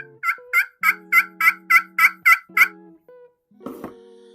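Crystal over glass turkey pot call in padauk wood, struck in a run of about nine loud, sharp, evenly spaced yelps. After a short gap comes a rougher, raspier stroke.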